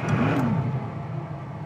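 A 1956 Mercedes 300SL Gullwing's engine revs up as the car pulls away on the road, a mid-pitched rising rev followed by a steady close engine drone and road rumble.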